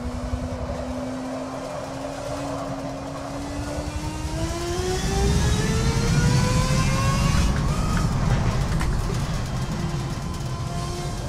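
A race car engine in the Forza Motorsport 7 driving game revs up steadily through a long climb in pitch, shifts once, then keeps pulling, sounding muffled and somewhat distant with no talk over it.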